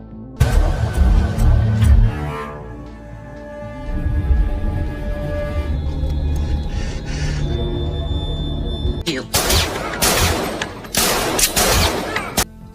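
Bursts of gunfire in an action movie shootout, loud dense volleys at the start and again near the end with a quieter stretch of action sound between them.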